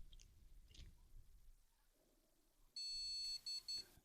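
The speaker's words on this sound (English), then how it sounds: "I got a beep, beep," An electronic circuit board on a repair bench beeps three times in quick succession, short loud electronic tones after quiet handling noises.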